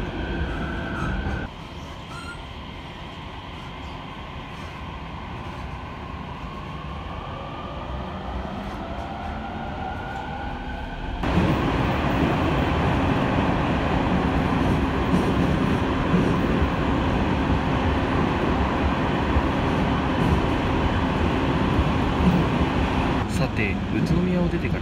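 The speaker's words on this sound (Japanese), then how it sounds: "宇都宮を出てから39分、列車は古賀までやってまいりました。" An Utsunomiya Line local train bound for Omiya runs steadily, heard from inside the carriage as a loud, continuous rumble of wheels on rail that grows heavier partway through, with faint voices at times.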